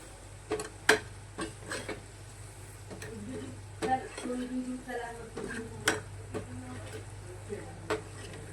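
Vada frying in hot oil for sambar vada, a soft continuous sizzle broken by scattered clinks and stirring taps of a utensil against the pan, with faint voice-like sounds in the background.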